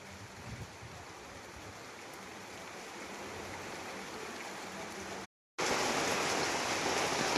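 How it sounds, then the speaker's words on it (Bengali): Continuous hiss of steady rain, even and fairly loud throughout, cut by a brief moment of silence before resuming. "তা আল্লাহর রহমতে বৃষ্টি পড়ছে।"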